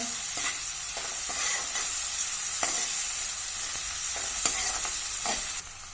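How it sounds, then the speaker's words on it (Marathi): Soaked moong dal sautéed with radish greens and chilli in a pan, Konkani style: steady loud sizzle with repeated scraping stirs at a regular pace, close up, no talk. "आता ही भिजवलेली मुगाची डाळ घालते आहे परतून घेऊया"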